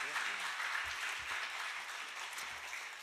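A church congregation at a Friday revival prayer meeting claps to welcome the pastor forward, a dense, steady wash of applause that carries on evenly at moderate volume, with faint voices mixed in underneath.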